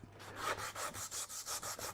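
Sandpaper roughs up a wooden board coated in blue primer with quick, rhythmic back-and-forth rubbing strokes, about eight of them, close up and fairly quiet.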